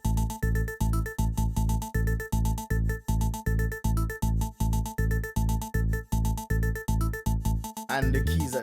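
A synth lead, rapid and busy, now joined by a heavy bass line, the two locked into a steady pulsing pattern, loud and close, ending in a brief noisy sweep.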